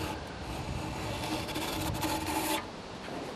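A crosscut saw cuts the shoulder of a wooden tenon by hand in slow, deliberate strokes. It gives a close, continuous rasping that eases off briefly toward the end.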